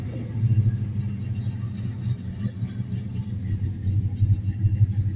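A 1971 Dodge Dart Demon with a 340 V8 cruising at highway speed gives off a steady, low, rumbling drone with mild surges. It continues without a break and without any talk.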